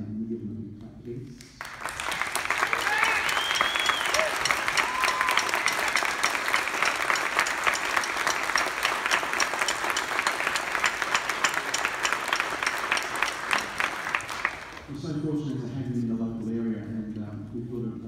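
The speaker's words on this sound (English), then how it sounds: "give them a big clap, please" A concert audience applauds steadily for about thirteen seconds, dense and loud, with brief speech before and after the clapping.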